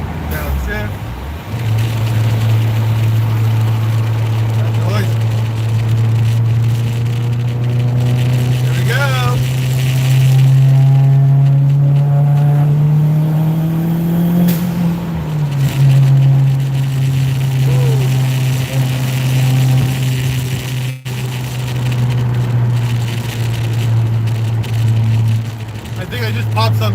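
A car engine with turbo boost drones loudly and steadily while driving, its pitch climbing and then dropping with a downshift, with a person talking over the engine noise.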